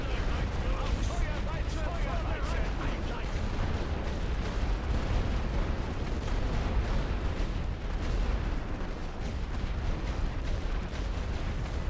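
A creeping artillery barrage on the Western Front in The Great War, a continuous dense roar of shell bursts and rumbling detonations, with talk over it.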